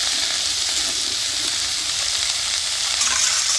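Taro stems frying in a hot pan give an unbroken, close sizzle with a bright crackle that stays steady and loud from start to finish, and no one speaks.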